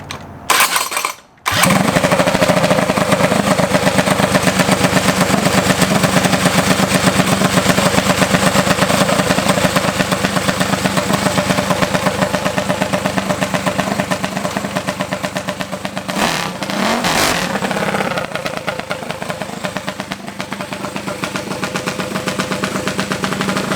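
An engine fitted with a 3-inch exhaust cranks and fires after a brief moment, then runs loud and close with a steady, aggressive rumble and a short rev near the end.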